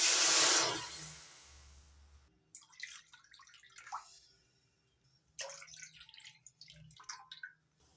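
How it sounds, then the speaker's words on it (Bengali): Three cups of water poured into a wok on a gas stove give a loud gushing splash that fades out, followed by faint drips and light hissing from the pan. "কড়ার মধ্যে দিয়ে দিচ্ছি তিন কাপ জল"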